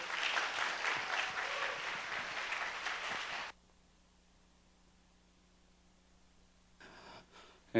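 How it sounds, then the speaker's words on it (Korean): Congregation clapping during a church youth worship service fills the first few seconds with a thick burst of applause, then cuts off abruptly to near silence with low hum, before faint rustling and handling noise return at the end. "박수 한번 쳐드려야겠죠?"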